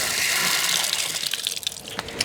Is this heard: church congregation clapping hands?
no